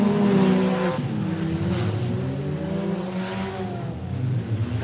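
Race cars power through a corner at a dirt track during Metal Mayhem, engines roaring loud and close with layered revving pitches, tires skidding and squealing on the dirt, a steady dense roar throughout.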